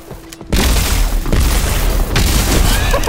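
An EMP grenade blast in Fortnite, a sudden loud boom after a quiet moment followed by crackling, booming bursts and rumble that keep up loudly to the end.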